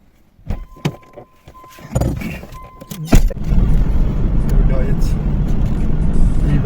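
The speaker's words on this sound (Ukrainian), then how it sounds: "плигнула в машину і тронули" A car pulling away: door and interior clunks and knocks, then the engine and road noise rise into a steady loud rumble from inside the cabin as the car drives off.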